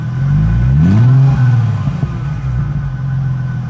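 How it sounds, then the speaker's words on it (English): A 2005 Chrysler Crossfire SRT6 roadster's supercharged engine revs once from idle, rising in pitch around the first second and then dropping back to a steady, loud idle rumble, recorded up close with no talking. "Go ahead, give it a rev."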